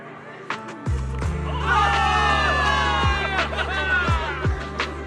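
Crowd of soldiers cheering and shouting in a celebration scene in the video game Zenless Zone Zero, a dense roar of voices rising and swelling over a steady low music bed, with a few heavy thuds punctuating it.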